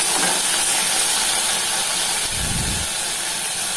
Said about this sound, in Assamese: এই তেলতে মই এতিয়া অমিতা ফুলখিনি ভাজি ল'ম।